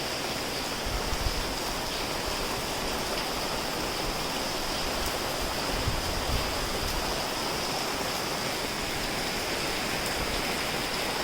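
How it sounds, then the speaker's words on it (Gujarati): Steady, dense rain falling, a continuous close wash of drops with no voices, unchanging throughout. "તમારા સુરતમાં તો જો વરસાદ ચાલુ જ છે"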